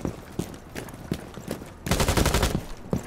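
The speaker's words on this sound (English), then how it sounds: "Okay, full auto gun, cool." Full-auto gunfire in Rainbow Six Siege: a few spaced single shots, then a loud, rapid sustained burst of close fire lasting under a second, followed by another isolated shot.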